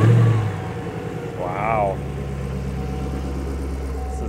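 An automatic car damaged by flooding turns over and settles into a steady, loud idle with a brief rise in engine note; a person briefly exclaims.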